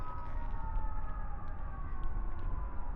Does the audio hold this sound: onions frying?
no